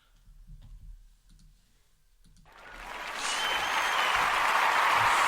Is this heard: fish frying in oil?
no